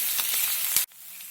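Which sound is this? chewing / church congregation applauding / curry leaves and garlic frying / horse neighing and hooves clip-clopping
curry leaves and garlic frying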